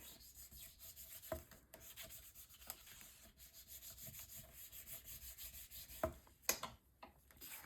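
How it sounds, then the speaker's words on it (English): A paper pocket is burnished down onto a handmade Stamperia Songs of the Sea mini album page, producing quiet steady rubbing and scraping strokes close up with a few sharper taps, and no voices. "And then I'll burnish this one down."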